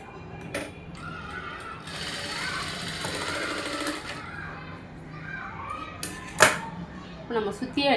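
A sewing machine stitches a blouse seam in short bursts, its rapid mechanical whir starting and stopping close by while someone talks over and between the runs.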